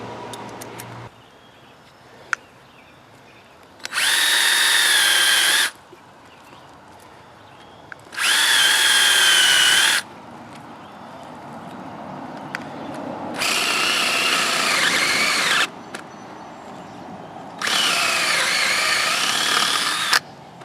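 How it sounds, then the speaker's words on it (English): Cordless power drill with a large wood bit boring holes outdoors by a lake, four sustained whining bursts of several seconds each separated by pauses, loud and close with the pitch sagging under load. "we're going to get out a bigger wood bit, start drilling those in there"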